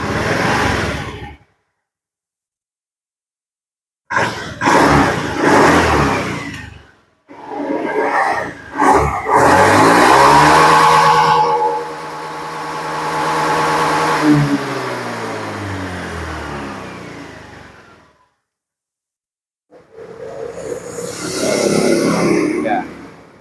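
A 2019 Honda Beat scooter engine revved to full throttle in several loud bursts, one long rising and falling rev in the middle, separated by silent gaps, with a voice talking in between.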